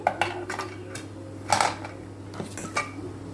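Several clinking metal knocks as idli plates are set into a steamer pot, a few separate clanks spread over a few seconds, fairly close.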